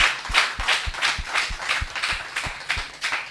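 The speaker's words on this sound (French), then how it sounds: "Acclamons pour dire merci à Dieu" A church congregation clapping together in thanks to God, about a dozen steady rhythmic hand claps at an even beat, moderately close with a slight roomy ring.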